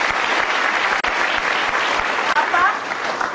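A television studio audience breaks into loud, even applause, a dense wash of clapping that holds steady with only a couple of brief dips.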